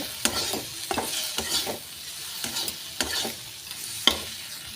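Tarka spice mix being stirred into a pan for a wedding-style tarka, a spoon scraping in a steady rhythm of repeated strokes over a soft sizzle, close and moderately loud with no talking.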